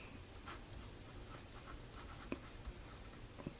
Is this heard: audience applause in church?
no